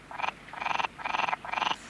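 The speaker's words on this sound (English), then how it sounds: "Frogs can be very noisy." Four rhythmic bursts of frog croaking, each a buzzy pulsed call lasting about a third of a second, close and clear with short gaps between them.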